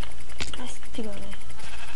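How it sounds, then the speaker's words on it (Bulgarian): A blocky Minecraft sheep lets out a short bleat in a survival game, heard briefly against a dense, noisy background. "Тая овца си мисли, че ще ми избяга."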